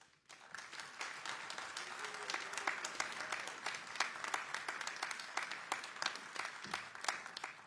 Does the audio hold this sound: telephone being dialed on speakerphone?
no